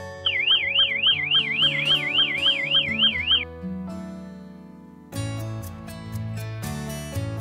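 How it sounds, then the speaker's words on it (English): A Toucan security light camera's siren gives a loud, rapid warbling wail that rises and falls steadily for about three seconds over background music. The music then continues alone. "you can trigger the loud siren alarm remotely from the app."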